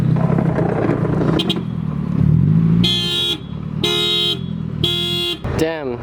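A car alarm blares at a hot-weather car meet, with several loud repeating electronic tones in pulsed bursts over idling engines. A final rising-falling siren-like whoop closes it, and voices can be heard nearby.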